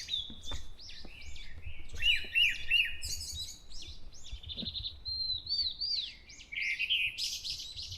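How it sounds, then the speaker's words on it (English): Many wild birds calling in a forest on Bongseosan mountain at dawn, a lively overlapping chorus of high chirps, trills and whistled phrases, some near and clear, others farther off, with no talking. "All the different birds calling."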